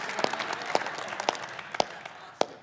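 A church congregation applauds, a light scattering of claps over a soft, diffuse patter, with a few sharper claps landing at roughly regular intervals, moderately close.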